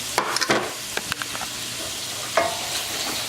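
Chopped onion, celery, carrot and garlic sizzle in a pan with a soft steady hiss, broken by a few clattering stirs from a utensil near the start and middle.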